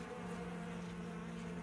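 Native Korean honeybees drone steadily at an open hive in a southern apiary, a dense, continuous close buzz with no talk over it.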